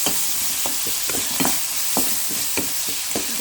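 Steady crackling sizzle of spices frying in hot oil, close and continuous, with scattered sharper pops and spoon scrapes throughout; no voices.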